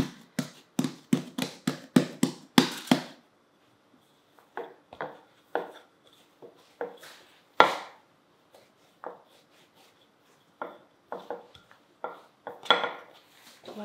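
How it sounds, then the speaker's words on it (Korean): Rice bagel dough being worked on a kitchen counter, giving a run of sharp, close taps and knocks, quick and dense at first, then sparser and irregular, with no talking. "자, 1차적으로 밀어 펴고 다음에 다른 반죽을 또 밀어 펴겠습니다."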